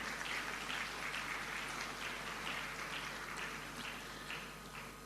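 A large audience at an induction and investiture ceremony claps steadily, the sound faint and distant, thinning out gradually over several seconds.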